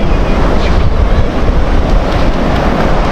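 Waves washing onto a wide sandy beach with strong wind buffeting the microphone, a dense continuous roar with no speech.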